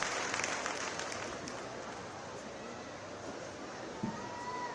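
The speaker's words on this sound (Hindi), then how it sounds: "परमादरणीय से जोरदार ताली के साथ दिलीप जी खोटिया।" An audience claps at a Jain community ceremony during a Panch Kalyan Pratishtha festival, producing a steady wash of applause that stays even throughout, with a faint murmur of voices beneath.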